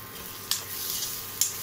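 Egg porutu frying in a pan, a soft steady sizzle with two brief sharp clicks of a utensil, quiet and close, no talking.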